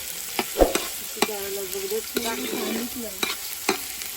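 Onion being stirred in a hot pan for Agari-style chicken, scraping and clinking strokes at an irregular pace over a soft sizzle, with faint tonal squeaks; close and moderately loud, no talk.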